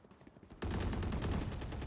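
Video game battle gunfire erupts suddenly after a quieter lead-in, then continues as dense rapid automatic bursts, loud and sustained to the end.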